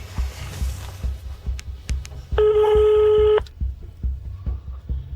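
A telephone call is dialed: several short taps and clicks, then a steady electronic tone held for about a second, followed by more soft clicks over a low background hum. No one speaks.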